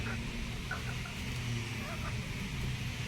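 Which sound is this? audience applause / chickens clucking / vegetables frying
chickens clucking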